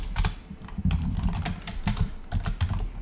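Fingers type on a computer keyboard, producing a quick, irregular run of close, crisp key clicks with no voice.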